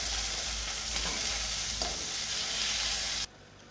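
Green chillies frying in hot oil make a dense, close sizzle with a light stirring scrape, staying steady until the sound drops away abruptly near the end.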